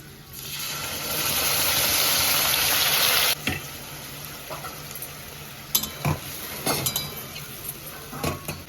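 Potatoes, fried until reddish and salted, stirred in a pan with spice paste: a loud sizzle for a few seconds drops away, then the spoon scrapes and knocks against the pan in irregular strokes, close up with no voices.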